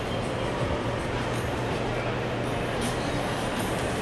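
A PATH train in Lower Manhattan makes a steady, moderately loud low rumble that runs the whole time under broad outdoor city noise.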